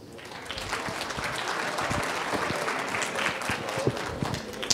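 A conference audience breaks into applause, a dense, continuous spread of hand claps swelling slightly and holding steady for several seconds.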